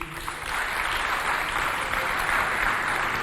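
An audience at a cultural centre event claps steadily, a dense, loud, continuous patter of many hands throughout.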